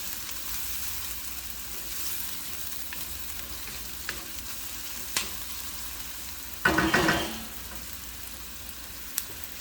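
Vegetables frying in a pan for veggie Szechuan fried rice, a quiet steady sizzle broken by a few sharp spatula clinks and one loud burst of stirring and scraping midway.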